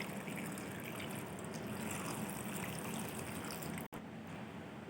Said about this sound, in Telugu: గ్లాస్ వాటర్ తీసుకొని అందులో పోసిన తర్వాత